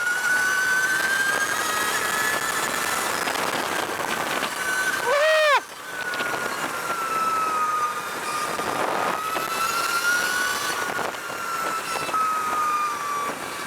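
A 2020 Energica Eva Ribelle electric motorcycle on the move, giving a steady high-pitched motor whine over constant wind rush, with a brief dip in the sound around midway before it continues evenly.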